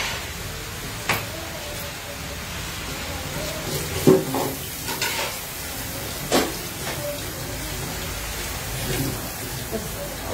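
Food frying in a pan with a steady hiss while a spoon occasionally knocks and scrapes as it is stirred, with voices talking nearby.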